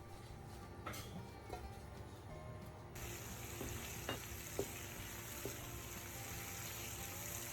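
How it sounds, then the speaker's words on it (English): Bell peppers and onion stir-frying in a hot pan give a steady, close sizzle, with scattered louder crackles and the scrape of stirring, and no talking. "Continue by stir-frying the bell peppers and onion until just tender and aromatic."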